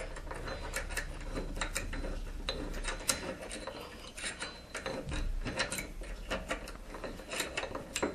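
A bench vise screw is turned by hand to clamp a workpiece on a homemade metalworking vise, giving a steady close rubbing and rasping of threads with small ticking clicks, running continuously and fairly quiet.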